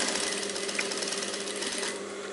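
A sewing machine stitches a high neck blouse, running in a steady continuous whirring, rattling drone at close range with no pauses or talk.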